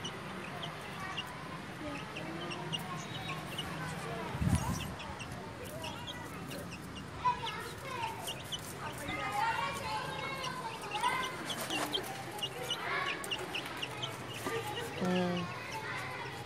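Young chicks roam a backyard vegetable garden, giving scattered soft clucks and peeps at low level through steady outdoor background noise.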